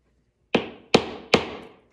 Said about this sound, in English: I will take a block of wood and a little hammer